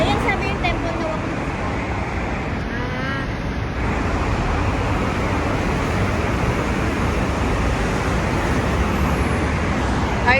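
Highway traffic in Bangkok roars past in a dense, constant wash of engine and tyre noise, loud and near, with a person talking over it.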